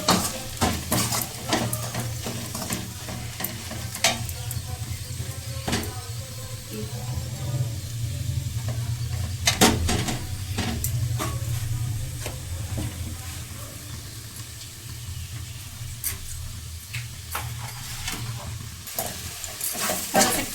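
Okra (bhindi) sabzi roasts in a pan with a steady frying sizzle, overlaid by frequent sharp clicks and scrapes of a spoon stirring throughout.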